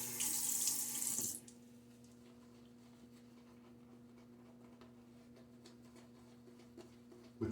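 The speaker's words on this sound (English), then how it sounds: "Get a little water here." Water runs from a bathroom sink tap during a shave, a bright hissing stream for about a second before it shuts off, leaving quiet room hum with small faint ticks and a short splash near the end.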